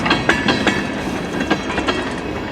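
A CN freight train rolling past on the tracks in Emmett, Michigan, loud and near, with steady rumbling and regular clickety-clack beats of wheels over rail joints, no voices.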